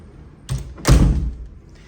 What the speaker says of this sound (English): and you go through this door.